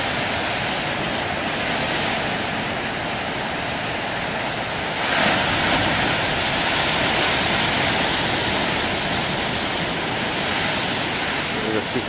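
Huge ocean waves crash and roar continuously along a foggy shore, a broad loud surf wash with a heavier surge midway through.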